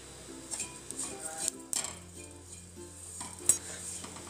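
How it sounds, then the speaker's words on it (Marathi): Sambar vadi filling is stirred and roasted in a pan over a low flame, giving soft quiet scraping and light utensil taps with a faint sizzle underneath, no voices. "मंद गॅसवर हे परतवत राहायचं."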